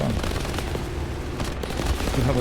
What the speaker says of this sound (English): Who the heck is shooting at me?